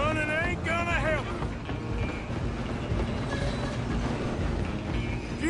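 In Red Dead Redemption 2, a running train gives off a continuous rumbling clatter of wheels and carriages, with brief tonal calls early on and voices over the rolling mechanical noise.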